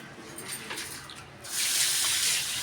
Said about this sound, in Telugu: కొంచెం నీళ్లు పోసి ఇట్లా బాగా కడిగేసుకోవాలి పిసికి